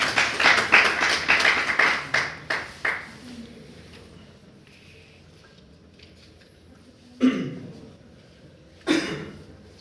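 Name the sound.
audience applause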